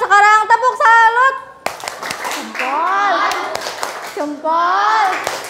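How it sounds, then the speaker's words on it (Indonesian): A class 5 group of schoolchildren performs the 'tepuk salut' clapping routine, with chanted children's voices over bursts of rhythmic hand claps in short patterned groups. "untuk kelas 5 sekarang tepuk salut"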